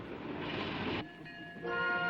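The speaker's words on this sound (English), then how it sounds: "The freight train just pulled into the Frontierland siding." A rumbling freight train with clanking rail noise pulls into the Frontierland siding at the Magic Kingdom, then steady tonal hums and squeal-like tones as it slows, moderately near.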